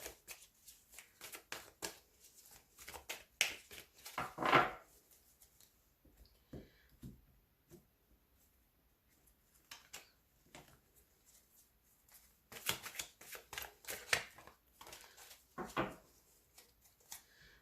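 Tarot cards shuffled by hand, soft riffling and slapping in repeated bursts close to the mic, with quiet gaps between rounds of shuffling.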